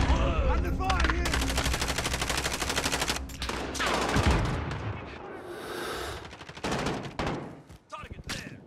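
Rapid automatic gunfire rattles in a Call of Duty style video game, loud sustained bursts with booming shots and shifting intensity, while a voice calls out in the middle.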